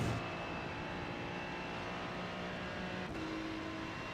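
A steady Ferrari 296 GT3 race car engine in the iRacing video game drones at constant pitch, a dense mechanical hum with a slight shift partway through, no voices.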